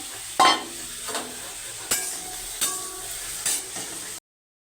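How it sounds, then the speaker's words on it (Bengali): Pre-fried potatoes go into a pan for a Bengali katla fish curry with ridge gourd, giving a soft steady sizzle broken by a few sharp clinks and scrapes of a stirring utensil against the pan. "ভেজে রাখা আলুটা দিয়ে দেবো"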